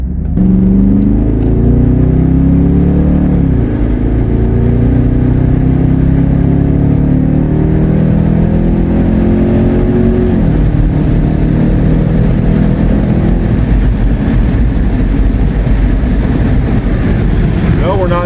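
A modified Dodge Durango with a Hemi engine accelerates on the road, its loud, close engine note climbing in pitch through the gears with a shift drop partway, steady road roar throughout.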